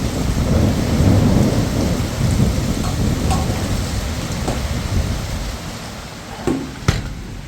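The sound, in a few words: rain falling with thunder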